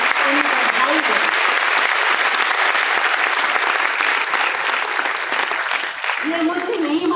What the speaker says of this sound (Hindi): उनके दोनों के लिए हम एक बार जोरदार तालियों से उनका स्वागत करें